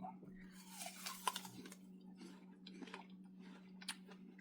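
Close crisp bites into a HoneyCrisp apple followed by wet, crunchy chewing, with a few sharper crunches scattered through a steady soft chomping rhythm.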